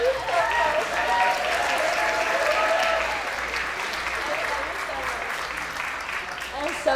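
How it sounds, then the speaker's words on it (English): Wedding reception guests applaud in a large hall, a broad wash of clapping that slowly eases, with murmured voices and a low hum underneath. "Let's get another big round of applause for Julia."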